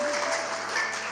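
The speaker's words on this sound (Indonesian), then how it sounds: "Boleh tepuk tangan untuk Ombi." Congregation clapping in a church during a Sunday service, a brief burst of dense applause from many people in a reverberant hall, fairly loud and even with no talking over it.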